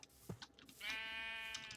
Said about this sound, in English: this is another pink sheep invasion